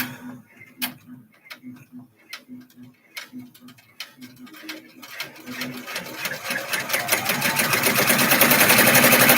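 A sewing machine stitching a bag, starting with slow, ticking single stitches that speed up into a loud, continuous close-up whir.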